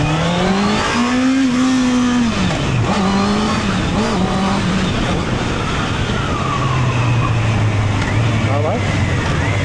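Honda CB 650R motorcycle with E-Clutch downshifting without the clutch lever, engine revs falling and blipping loudly and close as gears drop, with someone talking over it.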